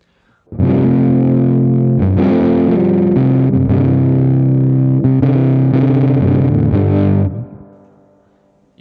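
A tube guitar amp with its bass knob cranked up rings out a distorted, boomy chord pattern for about seven seconds, loud and steady with a few rhythmic changes before fading out.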